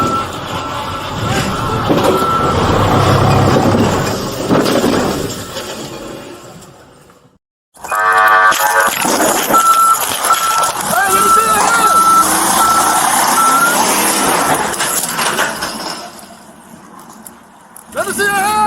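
A reversing truck's back-up alarm beeps in a steady repeating series of high tones during a police pursuit, loud under engine rumble and shouted voices, with a louder burst of noise just before the beeping starts.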